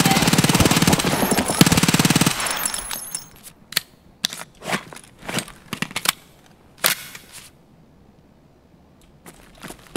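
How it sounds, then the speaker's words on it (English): Bullets are fired in a dense, continuous rattling burst, followed by a scattered string of individual shots and short volleys with an oddly distant, outdoor-sounding quality. "Why did those bullets sound so weird? Those bullets sounded like they were outside."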